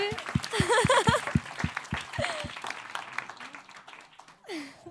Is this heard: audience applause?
yes